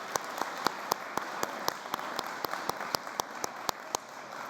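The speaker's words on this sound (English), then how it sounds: "I would like to hear just a round of applause for the Moriah staff from everybody," Applause from an audience for school staff at an upper school academic awards ceremony, a steady wash of many hands with sharper individual claps standing out throughout, moderately distant.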